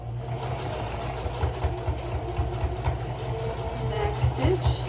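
A sewing machine stitches the handle of a fabric shopping bag, its motor humming steadily up close with a quick, regular needle rhythm throughout.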